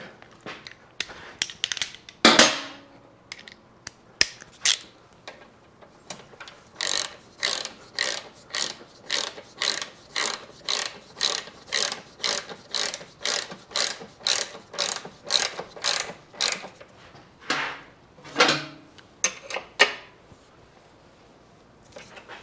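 Ratchet tightening bolts on the back of a Yamaha AT-1 motorcycle, a long run of quick, regular clicking strokes close by, with a few heavier clanks near the start and end.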